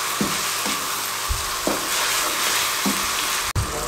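Minced meat keema fries steadily in a pan with salt, a constant close sizzle broken by a few soft stirring scrapes and knocks roughly every second.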